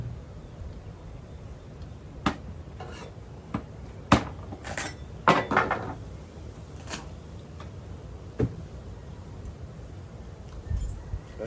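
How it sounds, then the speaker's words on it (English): An axe chops open cacao pods during a harvest on Kauai, giving sharp, separate thwacks at uneven intervals, some clustered close together, over quiet outdoor background. "You gotta have the right chopper. We've used knives before, but it's really hard with a knife to do this over and over. Better use an axe."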